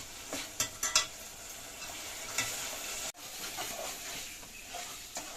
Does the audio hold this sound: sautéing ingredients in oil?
yes